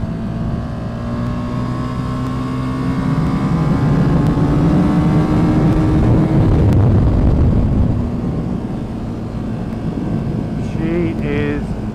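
KTM Super Duke motorcycle from 2017 with its engine braking hard, a loud steady drone with a falling tone under a rider's voice talking, staying close throughout.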